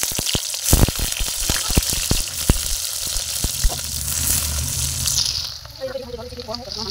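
Frying in oil in a pan as onion is added after potatoes are taken out, giving a loud sizzling hiss with sharp clattering knocks early on, a voice speaking partway through, and the sizzle easing near the end.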